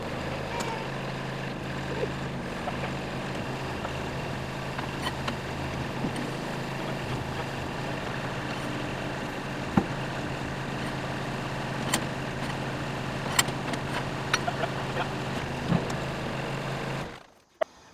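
A steady, low tractor engine drone runs throughout with occasional faint clicks and knocks, then cuts off abruptly near the end.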